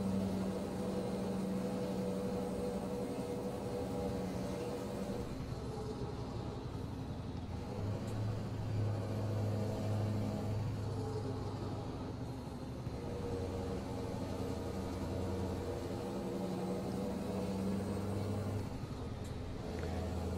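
A truck drives steadily in Euro Truck Simulator 2 with ProMods on the Wick to Höfn route, its engine a constant low droning rumble with tonal hum. The sound holds steady and close, with no talk.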